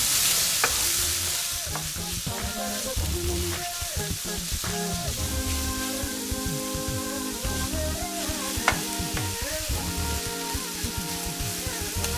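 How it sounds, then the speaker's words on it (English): Meat sizzles and fries steadily in a hot pan over medium-high heat for Iranian cooking, with loud continuous crackle and spatter and frequent scraping stirs throughout. "I want the meat to be cooked as well as fried properly and browned nicely"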